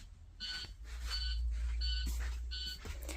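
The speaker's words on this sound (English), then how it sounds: "The alarm is going off, which means we need to do a child check" Child-check alarm on a Minnesota school bus sounding in repeated short electronic beeps, four evenly spaced bursts over a low idling engine rumble, with no talking.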